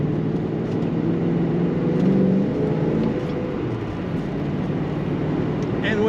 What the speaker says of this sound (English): with a stick, you can rev it right to where you want the power